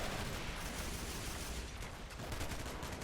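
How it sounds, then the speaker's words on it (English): A machine-gun bunker in a video game, set in a Maginot-line style assault, pours out dense, continuous automatic fire. Overlapping bursts form a constant rattling wall of sound with no pause. "4 machine guns, a few mobile machine guns on the side as well."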